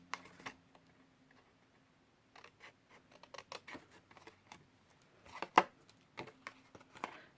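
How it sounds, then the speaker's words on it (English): Craft scissors snip card spots out of scored cardstock for a small treat holder, giving faint, close, irregular cuts and crisp clicks scattered across a quiet room, with one sharper snip near the end. "when you go to cut out these spots, cut all the way down to the first score"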